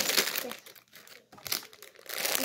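Cardboard boxes being opened and packaging crumpled, close crinkling and crackling bursts with a brief quiet gap in the middle, while people talk.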